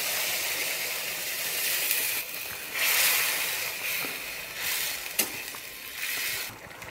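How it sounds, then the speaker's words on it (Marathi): A pot of chickpea curry (chana masala) simmers at a steady boil, a continuous soft hiss with faint bubbling pops rising and falling close by. "हे बघा आता मस्त उकळी फुटल्यात."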